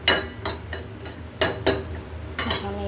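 A spoon clinks and scrapes against a cooking pot while a rohu fish and ash gourd curry with fried onions is stirred, a handful of sharp metallic taps in an uneven rhythm.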